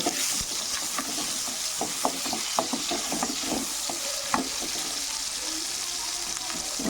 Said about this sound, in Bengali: এবার দিয়ে দেবো সাদা জিরা, এবার কুচানো পেঁয়াজগুলো দিয়ে দেবো।